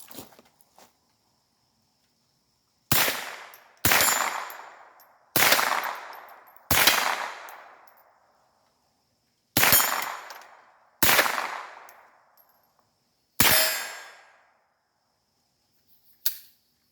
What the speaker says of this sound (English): I'm shooting at the targets at about 30 yards over there. Again, I got the 22 conversion bolt in here.